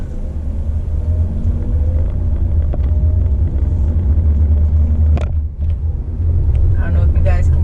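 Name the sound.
car engine running while driving in manual mode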